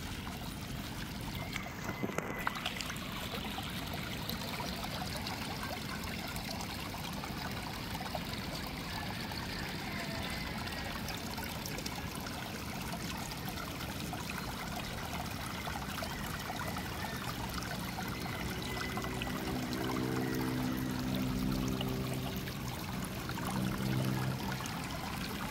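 Steady rushing of a small waterfall, continuous and fairly even throughout, with a brief splash early on and a low rumble toward the end.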